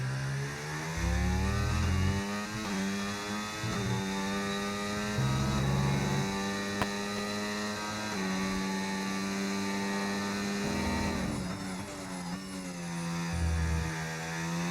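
Racing cars in a British Grand Prix racing video game accelerate and rev in a loud, continuous engine drone, with pitch rising and falling through gear shifts as a line of several cars runs together.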